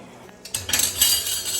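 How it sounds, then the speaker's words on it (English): A spoon stirs matbucha, a cooked tomato and pepper salad, in a metal pot at a home stove, making a few close clanks and scrapes that grow into steady rubbing against the pot. "stirring the matbucha my husband is making today"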